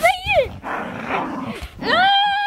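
A dog hidden under a blanket gives high, rising yips and whining barks in short bursts, close and loud, with a muffled stretch between them.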